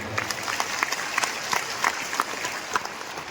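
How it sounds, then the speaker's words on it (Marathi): A crowd at a large devotional gathering claps in a continuous, moderately distant round of applause, with sharp individual claps standing out. "आपण सर्वांनी आपल्यासाठी टाळ्या वाजवून घ्यायच्या आहेत"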